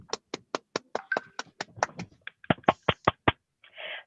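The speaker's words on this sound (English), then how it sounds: "Please, a round of applause" A small group of online Toastmasters meeting attendees claps hands in a quick, steady run of about fifteen crisp, close claps, with a short burst of rustling noise at the end.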